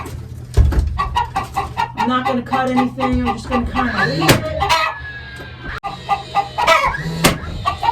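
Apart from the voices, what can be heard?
chickens clucking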